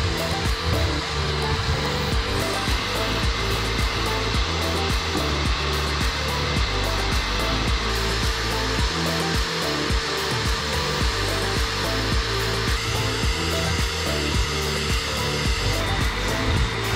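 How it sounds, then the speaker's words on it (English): A Bissell Little Green ProHeat carpet cleaner works over a rug with a constant loud motor whine and suction rush, steady from start to finish with small shifts in tone as it moves. "I am going to completely clean this rug"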